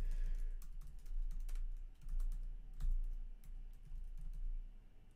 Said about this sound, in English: the clicking and the typing is not too loud